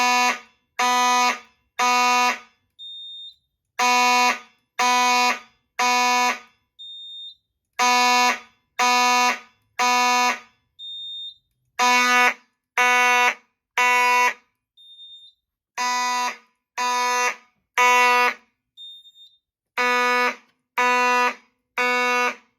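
A fire alarm set off during a System Sensor smoke detector test sounds in a steady temporal pattern of three loud, harsh horn blasts then a pause, repeating over and over with a faint chirp in each gap; no voices.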